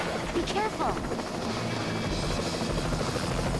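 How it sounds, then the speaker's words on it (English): A helicopter in the video game Lollipop Chainsaw keeps up a steady rotor drone, with a few brief game effects and some voice sounds mixed in early on. "A helicopter comes out of nowhere."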